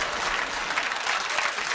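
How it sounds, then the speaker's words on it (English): Short burst of steady applause from a television studio audience at a comedy panel show, even and continuous with no voices over it. "It's a worrying round of applause"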